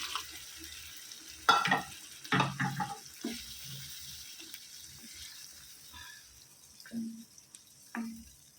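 Water goes into a pan of frying tamarind chicken, giving a few soft splashes and a low sizzle, then quiet stirring with occasional utensil taps, close and fairly faint with no talk.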